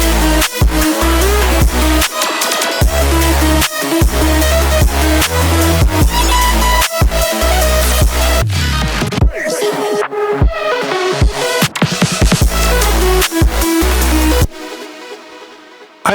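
The original second drop of a hardwave electronic track plays loud and dense, with pounding bass kicks and bright layered synths, a brief breakdown midway, then the full beat returns before cutting to a quieter tail.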